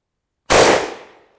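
A single sharp blast from a bolt-action Carcano rifle loaded one round at a time, loud and close, its boom decaying quickly into a short ringing tail after a moment of silence.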